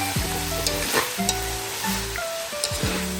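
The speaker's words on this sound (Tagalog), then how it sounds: "So ayan, nagsisizzle na." Pork pieces sizzle and spit in a hot pan for Filipino menudo, with repeated scraping and clinking of a utensil as the meat is stirred, steady frying hiss throughout and no talking.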